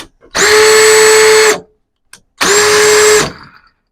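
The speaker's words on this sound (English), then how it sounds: "You can hear speed 2 is so fast that it spins a chuck a little bit better." A BAUER 20V cordless 1/2 in. drill/driver whirs loudly at high speed (speed 2) in two bursts, a long run then a shorter one, each spinning up and winding down sharply.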